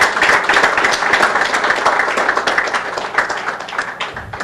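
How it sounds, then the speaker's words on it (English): Steady, loud applause and clapping from a crowd welcoming home Trinidad and Tobago's relay athletes after a national-record 4x400 run at the IAAF World Championships, sustained throughout without pause. "I think we need to applaud our guys for something like that."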